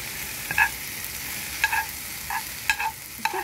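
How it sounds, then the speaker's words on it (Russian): Onion and garlic frying in a pan, with tomato added, give a steady soft sizzle, with several sharp clicks and scrapes of stirring breaking through at irregular moments; no voices. "Обжариваем лук с чесноком."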